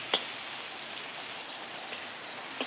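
Rain falling steadily on a farm roof, a dense continuous hiss with occasional heavier drops, while beans fry in oil in a hot wok nearby; no talking.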